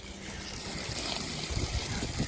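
Water runs through French drain pipes, flowing from the top pipes down into two bottom pipes, a steady close trickle and gurgle with no voices.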